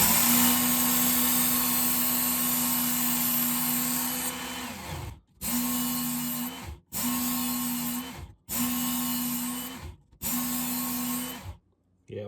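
Fillet knife edge being sharpened on a powered grinder or belt, a loud steady whine broken into five separate passes of about a second and a half each, with short gaps between them.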